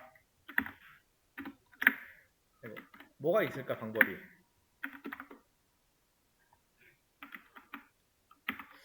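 Sporadic keyboard typing, a few scattered clicks and short bursts of keys, with a person speaking briefly in between.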